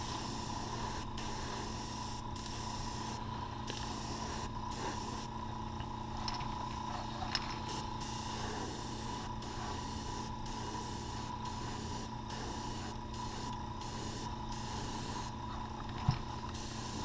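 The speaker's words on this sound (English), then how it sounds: "Kind of gives the lime green a pearlized color green when you spray over the gold." An airbrush at about 20 psi sprays lime green paint over gold on a baby bass crankbait lure, giving a steady soft hiss that runs continuously with a faint hum underneath, close and unbroken.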